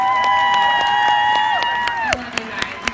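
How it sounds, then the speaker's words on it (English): A crowd gives a round of applause and cheers for the Cobras champions at a live event, with sharp hand claps standing out against sustained tones and crowd noise. "If you guys would stand up so we can give you a round of applause."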